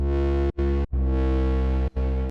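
A buzzy Serum 2 synthesizer saw-wave tone plays in repeated sustained notes with brief gaps, its bright harmonic texture smeared by reverb and echo.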